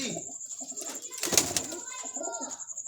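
A chapdi pigeon coos softly nearby in a pigeon loft, a few low murmuring calls with a brief flutter in the middle, while someone talks quietly in the background.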